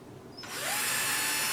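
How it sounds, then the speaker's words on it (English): A small power drill with a very small bit whirs up to a high, steady whine after a brief quiet start, drilling a hole in a deco mesh wreath decoration. "I'm using a very small drill bit"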